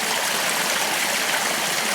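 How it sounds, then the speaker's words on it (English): Glacier meltwater stream in the Canadian Rockies flowing past moss, a steady close rushing and trickling wash of water, even and loud throughout with no voices. "this is just the cleanest glacier water ever"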